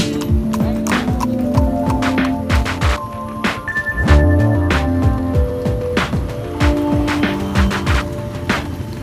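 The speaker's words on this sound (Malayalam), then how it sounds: "അപ്പൊ നമ്മള് കുതിരവണ്ടിയിൽ കയറിയിരിക്കുകയാണ്" A horse clip-clops steadily while pulling a cart, sharp, close hoof strikes keeping a brisk rhythm over road and traffic noise.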